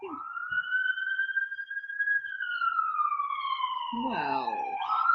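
A police car siren wails past, a long rising and falling tone that holds clear and fairly close before shifting pitch, with people talking over it near the end.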